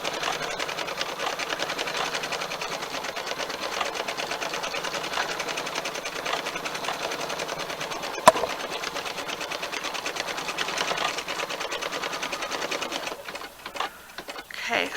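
An embroidery sewing machine runs a basting, tacking-down stitch for an appliqué patch over a burned quilt, a steady fast mechanical whir with a brief click partway through and a choppier finish as it slows.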